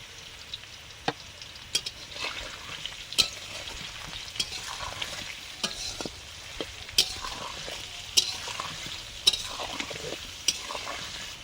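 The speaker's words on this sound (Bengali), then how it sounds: "আলুগুলো ভাজা হচ্ছে" Potatoes frying in oil in a pan for a meat curry, with a steady soft sizzle and regular sharp clinks and scrapes of a spatula stirring every second or so, close and fairly quiet, no talk.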